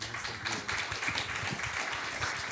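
Audience applause after a French public talk on dark matter and Einstein's theory, honoring Guillaume Duprat and Pierre Salati: dense, steady clapping from a crowd that fills the whole moment without a break.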